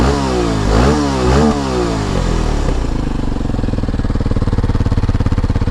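Stock-exhaust Kawasaki KLX230 dual-sport bike blipped twice in quick revs nearby, then settling into a steady, lumpy single-cylinder idle.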